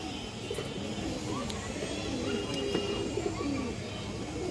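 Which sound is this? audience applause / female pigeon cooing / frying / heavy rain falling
female pigeon cooing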